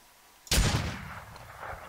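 A single sniper rifle shot in the video game Arma 3, a sharp loud crack with a booming report that rolls off into a fading echo.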